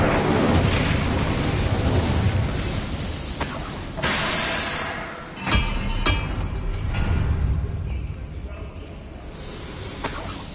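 A fire spell, Incendio, is cast in the Hogwarts Legacy video game, giving loud whooshing bursts and booming blasts that repeat over several seconds amid dense game sound.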